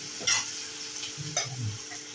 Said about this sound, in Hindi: तो इसको भी मम्मी उसी में भून रही है।